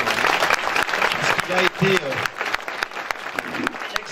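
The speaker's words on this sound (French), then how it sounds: "Je pense qu'on peut l'applaudir." Applause for the deputy for works at a school inauguration ceremony, a steady spread of clapping from the gathered crowd that runs the whole time, with a voice speaking briefly over it.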